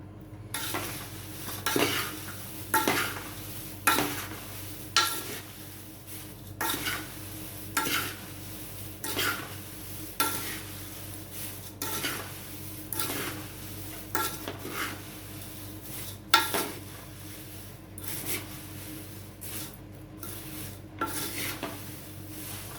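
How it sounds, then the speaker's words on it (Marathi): A poha chivda mixture being stirred and tossed in a pan for a Diwali snack, giving repeated rhythmic scraping and rustling strokes of dry flakes against metal, steady and close, with no talking. "चमच्यापेक्षा हे चांगलं आहे की पटकन मिक्स होतो तो, म्हणून हे असा हलवून घ्यायचा चिवडा."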